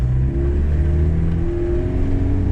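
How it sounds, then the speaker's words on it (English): Steady low diesel drone from a 1994 Toyota Hiace LH85 four-wheel-drive fire truck driving, engine note rising slightly as it pulls, heard from inside with constant road hum. "today we're taking a drive in this 1994 Toyota Hiace fire truck."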